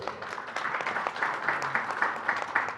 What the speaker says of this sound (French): Merci, vos applaudissements, mesdames et messieurs.